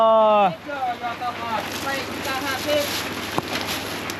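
Steady rain falling in the rural Lao countryside during the rainy season, a soft continuous patter and hiss under a voice speaking throughout, with one brief tap partway through.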